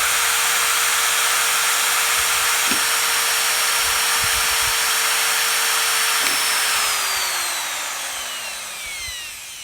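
A power drill whirs at a steady high pitch for several seconds, then winds down as the motor slows, with faint knocks underneath.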